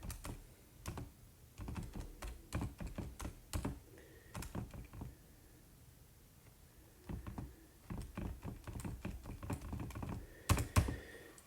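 Coefficients being tapped into a calculator: quick bursts of sharp, clicky key presses with short pauses between groups, close and fairly quiet.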